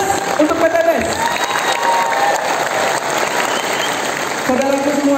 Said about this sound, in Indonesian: Aplaus untuk PT Best.